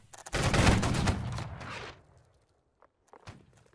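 Massed musket volley in the Napoleonic-era game Holdfast: Nations at War, a loud, dense crackling burst of many shots lasting over a second, then rolling decay and a few scattered later shots and footsteps.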